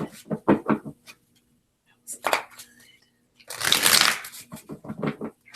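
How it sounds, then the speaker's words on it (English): Tarot cards being shuffled in several quick riffling bursts, close up, with short pauses between them and brief talking at the start and end. "More shuffling."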